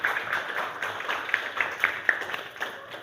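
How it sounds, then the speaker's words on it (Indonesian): A classroom of students claps for three classmates, a loose burst of hand claps with sharper individual claps standing out, moderately loud and close, with no talking over it. "Tepuk tangan untuk ketiga temannya,"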